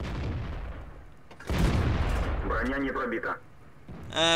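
An SU-152 tank gun fires during a World of Tanks match against an SU-100M1, making a heavy boom followed by rumbling debris and impact sounds. A voice talks over the shots as they play.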